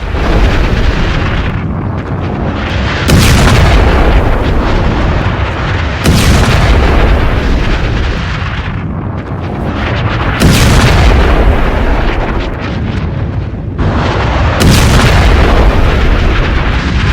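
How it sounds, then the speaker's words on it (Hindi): Artillery shells are fired in Lebanon, heavy booming blasts recurring roughly every three to four seconds, loud and rumbling with long decaying roar between them. "नेतन्याहू एक एक कर गोले दाग रहे थे।"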